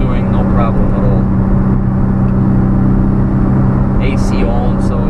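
A 1991 Daihatsu Atrai Turbo intercooler kei van cruises in fifth gear, its engine droning at a loud, steady hum with road and cabin noise. Someone talks over it throughout.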